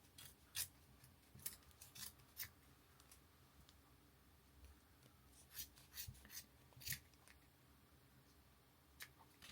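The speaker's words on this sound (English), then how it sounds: "You're then going to snip around the edge." Scissors snip around the edge of yarn wound on a pom pom maker, giving a series of sharp, close crisp cuts in an irregular rhythm, some in quick pairs, with quiet pauses between and no speech.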